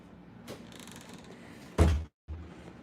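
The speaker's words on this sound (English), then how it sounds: "I'm gonna just shut this door so I don't wake anybody up." An indoor door is pushed shut with a single loud thunk, preceded by a faint creak and followed by a brief silence, then quiet room tone.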